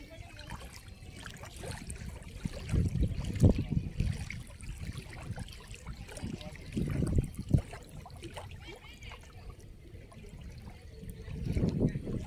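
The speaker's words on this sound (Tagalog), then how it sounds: "Yung tubig para nagsasalita." Water trickles and laps faintly at a flooded site in San Marcelino, Zambales, with soft irregular splashes and gentle surges rising and falling over a quiet background.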